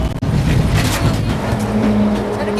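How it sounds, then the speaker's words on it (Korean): Heavy traffic rushes past on a road in Daebu-dong, Ansan, with a continuous loud roar of engines and tires and no pause between vehicles. "도로 위에는 대형 트럭들이 빠른 속도로 길을 지나갑니다."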